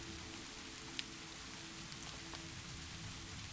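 Steady rain falls on stone in a quiet evening setting, an even hiss of drops with one faint sharper tap, no voices present.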